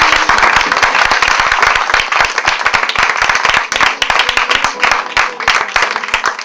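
Congregation at a French-language church service clapping and applauding to acclaim Jesus, a loud, dense burst of many hands sustained throughout with crowd noise behind.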